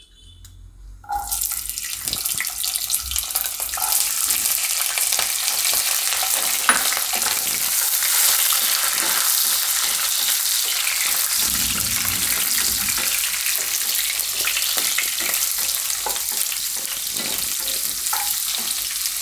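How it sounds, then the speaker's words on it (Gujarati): Green beans fry in oil in a pan after paneer was fried in it, a loud, close, continuous sizzle and crackle that starts suddenly and holds steady with occasional stirring clinks. "હવે એ જ તેલમાં આપણે આ ફણસી છે એને ફ્રાય કરી લેવું"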